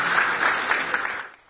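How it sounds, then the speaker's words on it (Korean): Applause breaks out from a crowd as an oversized check for a record Powerball lottery jackpot is handed to the winners, a dense burst of clapping that fades out over about a second and a half. "13억 달러가 적힌 대형 수표가 전달되자 박수가 터져나옵니다."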